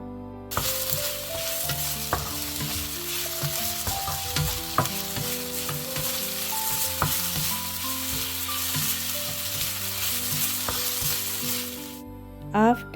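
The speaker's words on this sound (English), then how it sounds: "I am adding ginger and garlic paste now. Stir it for a bit." Ginger garlic paste fries with curry leaves, pandan leaves and green chillies in a pan for an eggplant and potato curry, a steady close sizzle broken by repeated scrapes and clicks of stirring.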